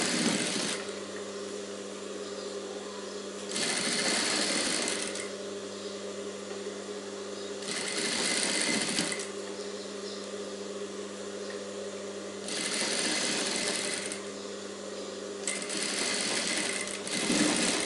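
A sewing machine stitches a princess-cut blouse in repeated bursts of steady mechanical whirring, each run stopping and starting again, close and loud with no talking.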